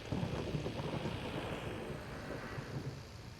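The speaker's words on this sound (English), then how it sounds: "But it's that or go out in the dark storm. So loud." A thunderstorm rumbles in the video game Into the Radius, a steady wash of heavy rain and wind with low thunder rolling beneath it, no voices.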